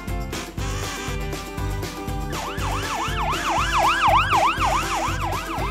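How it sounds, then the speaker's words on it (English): Ambulance siren in a preschool vehicle cartoon: after a musical lead-in, a rising-and-falling wail cycles rapidly and repeatedly, loud and near, layered over a bouncy beat. "An ambulance."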